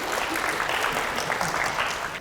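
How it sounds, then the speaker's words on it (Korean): Audience applause at a ketogenic diet lecture, a steady dense wash of clapping from a crowd lasting about two seconds with no talking. "박수 한번 부탁드릴게요."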